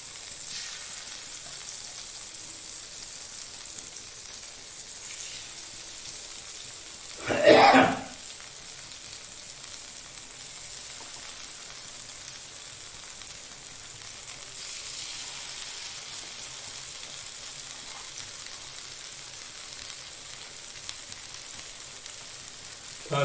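Battered fish pieces sizzle and fry steadily in a pan of hot oil, a constant soft crackle throughout, with one brief louder burst of spitting or clatter partway through; no talking.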